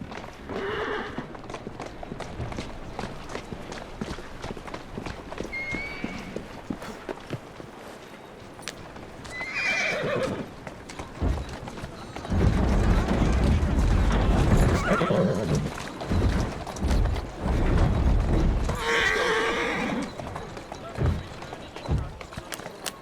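A horse in the video game Assassin's Creed Syndicate, set in London, whinnies twice and clip-clops along the ground, with hooves running louder in the middle section and a voice speaking over the action.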